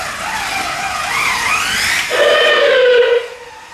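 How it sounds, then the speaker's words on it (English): Scalextric VW Beetle slot cars race around the track with a loud, rising and falling electric whine, sweeping past close by, alone with no talk. "This way we can show you the cars going around"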